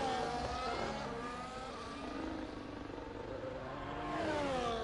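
Ferrari racing car engine on a hot lap of the Austria circuit in a sim racing game, revving steadily with rising and falling pitch through gear changes, loud and close with no talk.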